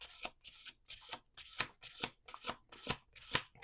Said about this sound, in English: We're going to do two more shuffles.